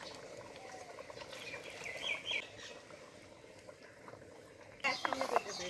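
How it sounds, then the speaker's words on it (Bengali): Water coming to a rolling boil in a pot while rice-flour dough for Bengali chitoi pitha is prepared, a soft bubbling patter heard close under a voice, with brief brighter splashy bursts near the end. "এখন দেখুন বন্ধুরা আমার জলে বলক চলে এসছে"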